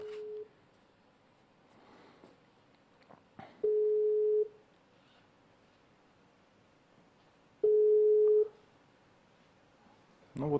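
Telephone ringback tone while calling a clinic registry in Ipatovo, two long steady beeps spaced a few seconds apart over a quiet line, with a clunk at the end.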